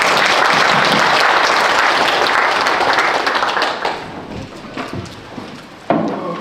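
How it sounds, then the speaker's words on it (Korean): Audience applause welcoming a lecture at an academic conference: loud, dense clapping from a hall crowd that gradually thins and fades, with a few scattered claps and a brief thump near the end. "강의 환영하는 박수 다시 한번 치겠습니다."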